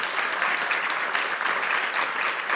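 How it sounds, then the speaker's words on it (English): Steady, dense audience applause at a panel event, a sustained wash of many hands clapping with no gaps, fairly loud throughout. "I think we can give them another round of applause."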